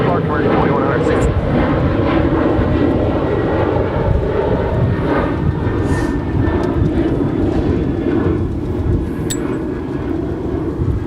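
American Airlines Boeing 737-800 at Dallas–Fort Worth airport, a loud, sustained jet engine roar with a rising whine, with talk and radio chatter over it.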